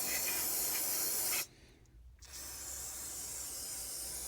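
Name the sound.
spraying brake cleaner on engine valve cover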